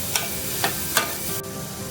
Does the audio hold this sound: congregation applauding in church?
no